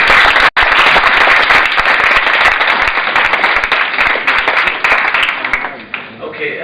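Audience at a university film presentation giving a round of applause for a crew member, loud, dense clapping from many hands that holds steady and then tapers slightly near the end.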